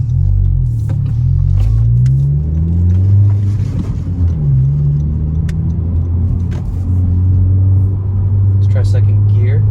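Turbocharged 2020 Honda Civic Si engine with a TSP Stage 1 tune under full throttle, a loud, close droning rumble that rises and falls in pitch as it pulls, heard from inside the car.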